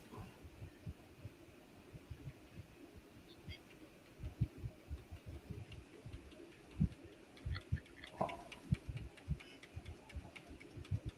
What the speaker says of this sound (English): I'm hitting the dang keyboard trying to figure out the thing.